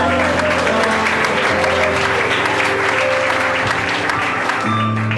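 A church congregation applauds during a sermon, with sustained many-handed clapping filling the room while sustained tonal music plays underneath and a voice or two rises briefly within the din.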